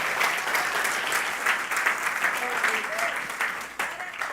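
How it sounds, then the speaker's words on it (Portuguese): A church congregation applauds loudly and steadily, a dense wash of clapping with a voice speaking over it partway through. "aplauda forte o nome dele"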